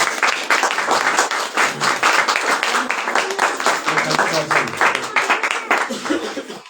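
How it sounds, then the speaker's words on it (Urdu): Loud, sustained applause from a church congregation celebrating the glory of the Lord, dense clapping running throughout with some cheering voices mixed in. "خداوند کے جلال کے لیے زوردار تالی بجائیں گے"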